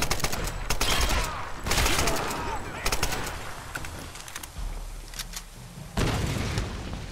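Gunfire in Tomb Raider (2013), in the Monastery area: repeated bursts of loud shots and booming impacts recur every second or two across a noisy game scene, with a voice talking at times.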